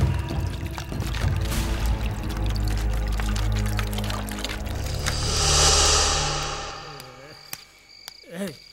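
Water poured out for drinking in a police station scene, a steady rushing pour that swells and fades over several seconds, followed by quiet with a few faint clinks.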